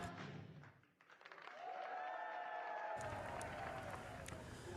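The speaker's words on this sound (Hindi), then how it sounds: "प्रधानमंत्री ने भी सभी का ताली बजाकर अभिवादन किया" Crowd applause in the Hague, Netherlands, greeting Prime Minister Modi after a garba dance performance, steady dense clapping throughout with a brief dip near the first second, then louder and fuller to the end.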